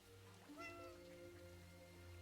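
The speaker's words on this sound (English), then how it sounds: "where's the meowing coming from? I keep hearing cats" A cat meows once, a clear rising-then-falling call heard at moderate distance over a steady low background hum, with no talk over it.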